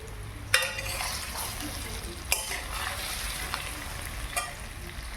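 Gujarati patra pieces just added to hot oil with asafoetida, frying with a steady close sizzle broken by a few sharp spoon-against-pan clinks, no speech.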